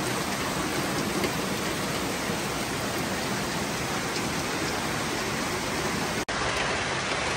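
Heavy rain pours down in Dushanbe in a dense, unbroken roar that holds at one loud level for the whole stretch, with only a momentary dropout near the end and no voices.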